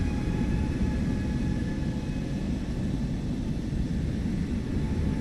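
An airliner takes off in Microsoft Flight Simulator 2024, its engines a steady, loud, broadband roar with a low rumble and a faint whine, running continuously with no talk.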